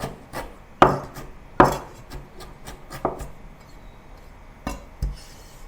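A knife chops galangal into small pieces on a cutting board, with several distinct, hard thuds spaced irregularly and close by, separated by quieter scraping and handling noises.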